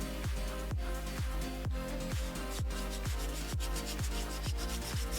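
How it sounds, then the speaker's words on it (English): Crafted costume horns are sanded by hand, with steady rhythmic rasping strokes repeating about twice a second, close and even, with no talk. "I typically spend a lot of time sanding, especially on stream."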